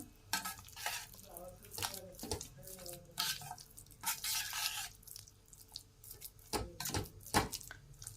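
Sweet potato sheera cooked in ghee and stirred in a pan, heard as soft, irregular scraping and stirring strokes at close range, fairly quiet, with no speech.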